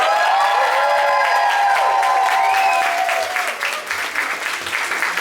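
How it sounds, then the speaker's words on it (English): A crowd at a drag show in a bar applauds loudly with some cheering, the clapping tapering off slightly toward the end while a bright tonal sound rings over the start. "can I get the first round of applause for Katya?"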